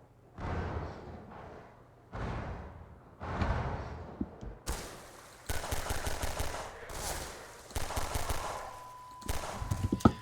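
Repeated bursts of gunfire in Half-Life 2 sewer canals, a series of loud close shots fired in quick clusters separated by short pauses, with heavier rapid volleys toward the end.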